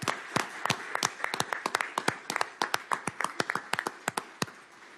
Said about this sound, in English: Can we get them a round of applause for